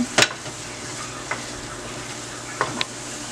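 Onion and garlic are stirred in a frying pan for a cheesy breadfruit pie, a constant close sizzle with a couple of sharp utensil scrapes against the pan.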